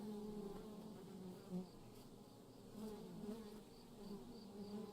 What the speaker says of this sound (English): I guess I'll grab the hive and get stung by a shitload of bees